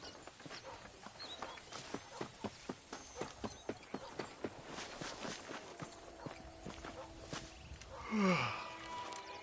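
Horse hooves clip-clopping in Red Dead Redemption, a steady rhythmic run of hoofbeats over the first half that blurs into scuffing, with a brief tonal cry near the end; no talking.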